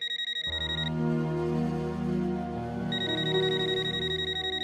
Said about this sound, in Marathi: फोन वाजतोय केव्हापासून, उचल किती हो